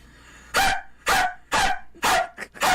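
A person imitates a dog with their voice, giving five loud, sharp bark-like yelps spaced about half a second apart, close to the microphone, with no other talk.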